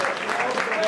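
Brief, steady applause from the crowd at a Vespa club rally prize-giving, honouring the winning group from Venaria with a continuous wash of clapping and a voice faintly underneath.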